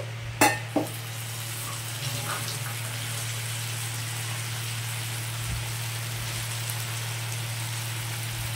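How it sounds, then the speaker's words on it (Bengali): A little water poured into a pot of frying khichuri ingredients sets off a sharp splash and clatter, then a steady hiss and sizzle that carries on close by under a low hum. "এবার এর মধ্যে অল্প একটু জল দিয়ে দিচ্ছি।"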